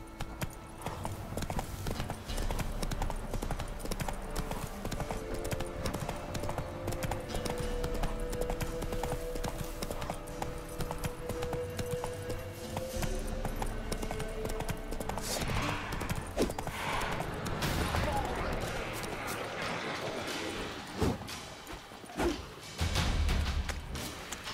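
Steady clip-clop of the horse Roach galloping in The Witcher 3, rhythmic hoofbeats running continuously under game music and ambience, with some crashes and swishes near the end.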